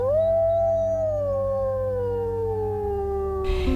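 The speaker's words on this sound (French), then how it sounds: "Et puis non, c'était un loup." A wild wolf in the Jura gives one long, loud, sustained howl that slowly slides downward in pitch, with a brief rustling noise near its end.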